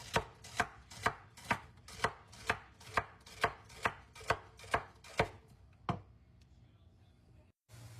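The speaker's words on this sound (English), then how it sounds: "Now you want to cut you up 2 sticks of celery" Knife chopping celery sticks on a board, about a dozen crisp even strokes at a steady rhythm, close and clear, slowing to a last chop before falling quiet.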